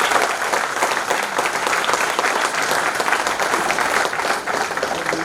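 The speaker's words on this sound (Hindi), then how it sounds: "जोरदार तालियों से स्वागत करें।" Dense, loud audience applause fills a forum hall as a guest is welcomed and presented with a memento, steady clapping from many hands throughout with no break.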